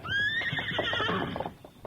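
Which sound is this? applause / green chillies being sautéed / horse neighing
horse neighing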